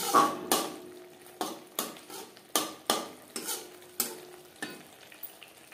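A spatula stirs spices in a pan for pakal fish curry over high flame, about ten distinct scraping knocks against the metal at a steady pace, close and clear over a faint sizzle.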